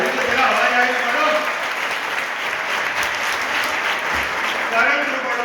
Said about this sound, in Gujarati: તાળી તો જરા અવાજ આવી પાડો.